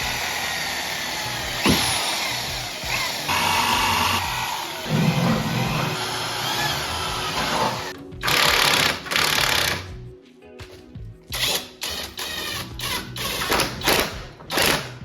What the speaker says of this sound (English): I'll just mark the existing holes so I can guess where to aim when I drill holes into the back beam.